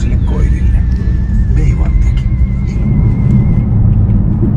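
Car engine revved as a test before heading onto a main road, a steady loud rumble running throughout with a faint whine on top.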